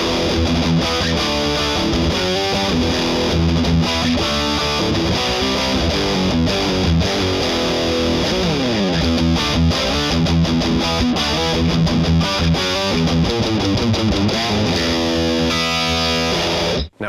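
An electric guitar played through a BluGuitar AMP1 100-watt compact amp at full metal gain, with the noise gate on its metal setting, churns out dense, heavily distorted riffing that stays loud and continuous before cutting off abruptly at the end.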